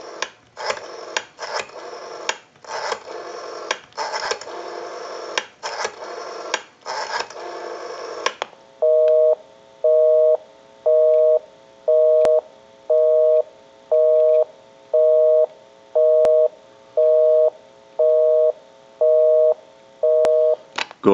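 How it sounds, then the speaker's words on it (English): Rapid bursts of rotary dial clicking from a Western Electric 500 rotary telephone come first, then a loud busy signal beeps in a steady on-off pattern, about a dozen repeats. "We'll call my number and it'll be busy."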